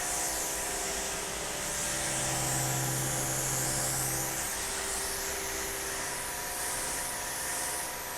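A Sioux combo pressure washer and steam cleaner blasts a steady, loud, unbroken hiss of steam with a faint low mechanical hum underneath, continuous from start to end with no voices.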